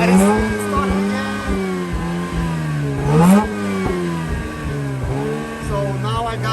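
Mazda RX-8 rotary engine firing up after a de-flood procedure, following a crank-no-start fault, then revving loudly with rising and falling pitch sweeps, close and steady throughout.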